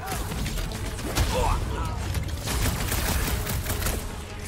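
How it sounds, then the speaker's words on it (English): Silvercore cannon fire in the Guardians of the Galaxy video game, dense bursts of energy-weapon shots and mechanical clatter under a busy battle soundscape, with characters shouting over it. "Those Silvercore cannons will take your head off!"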